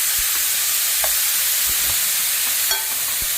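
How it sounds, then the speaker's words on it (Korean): Thinly sliced bulgogi beef seared flat in a hot pan for crisp Eonyang-style bulgogi, giving a steady close sizzle with a few soft clicks and taps of a utensil, no voices. "볶지 말고 고기를 이렇게 구워줘요"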